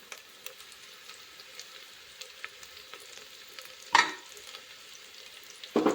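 Onions browning with green chillies for a vegetable pulao give a faint, steady crackle, broken by two sharp louder bursts of sizzle or stirring near the end; no voices.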